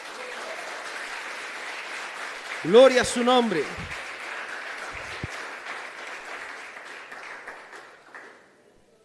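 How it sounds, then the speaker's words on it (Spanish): A church congregation applauds during a Spanish-language morning service, a steady wash of clapping that runs the length of the clip while someone speaks over it, fading out near the end. "Dele un aplauso al Señor en esta mañana"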